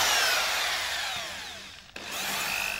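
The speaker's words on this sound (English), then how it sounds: "pre-drill the holes in the end of the sheet" A power drill whines as it pre-drills holes into the end of an MDF sheet, its steady high pitch sliding downward before a brief stop and a quick restart.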